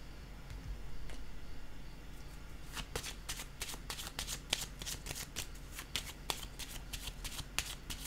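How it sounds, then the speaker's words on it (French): A tarot card being laid on a table, soft card handling and shuffling rustles followed by a run of crisp, close slapping and flicking sounds, quiet and without talk. "Je vais déposer une carte ici."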